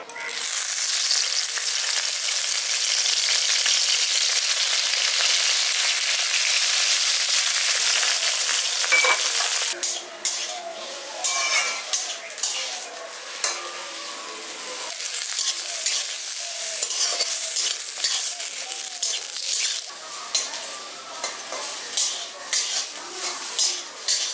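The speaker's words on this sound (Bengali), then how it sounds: "এবার বেগুনটা হালকা করে ভেজে আমি তুলে নেব।" Brinjal (eggplant) fries lightly in oil in a village-style kitchen, a loud, dense sizzle for about ten seconds, followed by rhythmic stirring clatter and scraping over a softer fry.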